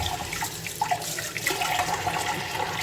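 Tap water runs steadily while a soapstone pot is washed at a sink, a close, continuous splashing rush with small clatters.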